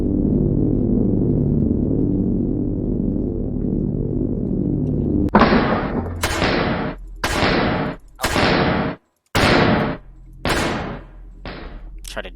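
Video game turrets open fire in a run of sharp, loud bursts, about seven in quick succession, following a steady low mechanical hum.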